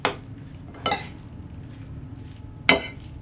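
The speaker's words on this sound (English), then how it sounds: "I'm going to sprinkle that over the top and give it a stir" A spoon scrapes and clinks against a bowl while stirring strawberries with sprinkled icing sugar. Three distinct close knocks stand out over a quiet background, and no one speaks.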